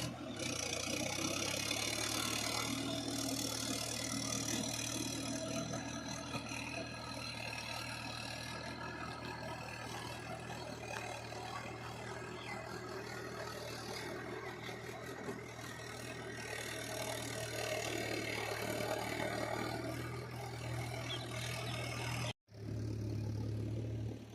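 A tractor engine works a muddy paddy field during ploughing, giving a steady, loud mid-to-low drone that holds almost unchanged throughout before a brief cut-out near the end.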